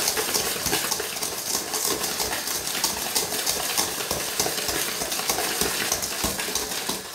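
Milk heating gently in a pan while being stirred, a close, continuous soft bubbling and scraping texture with faint rhythmic ticks of the utensil against the pan, no voices.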